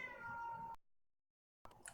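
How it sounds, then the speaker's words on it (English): A cat meows loudly and close in a drawn-out yowl, then the sound cuts to silence before another brief cry begins. "There's a cat yelling at me."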